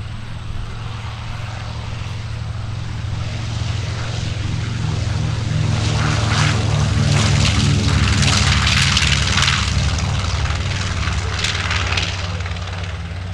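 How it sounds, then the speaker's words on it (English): A World War II J-model B-25 bomber makes a pass at an airshow, its piston engines droning loudly with a shifting pitch as it sweeps closer, peaking midway and then receding slightly. "This is a J model B-25. He'll be the first one making passes."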